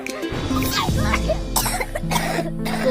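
Harsh, phlegmy coughing and throat clearing in a television advert for cold and flu medicine, a few loud close coughs in quick succession with some voice alongside.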